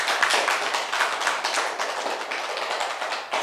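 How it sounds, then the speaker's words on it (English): A class of schoolchildren claps together for everyone after a lesson activity, a dense, steady patter of many hands at close range, fairly loud and unbroken for the whole stretch with no talking. "Give a good clap for everyone."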